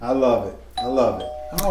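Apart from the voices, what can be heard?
doorbell ringing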